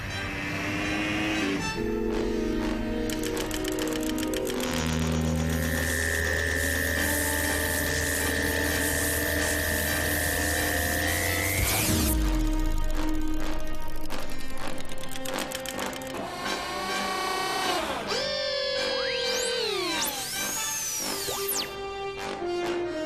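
A sci-fi pneumatic injector picking up the crew before a miniaturization sequence, loud layered synthetic hums, rising and falling tonal sweeps and electronic whines, sustained for over twenty seconds without speech.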